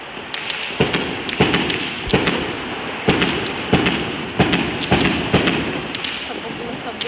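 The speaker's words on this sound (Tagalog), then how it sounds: "Grabe mga paputok, no?" Firecrackers and fireworks going off on the last night of Chinese New Year, a rapid string of loud, sharp bangs roughly every half second over a continuous crackling roar.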